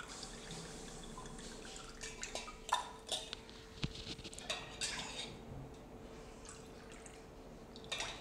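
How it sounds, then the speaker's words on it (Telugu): Buttermilk strained through a sieve drips and trickles softly into a vessel. Faint, irregular splashes and small metallic clinks from utensils come at close range, with no talking. "క్లియర్గా వడపోసేసుకుందాం"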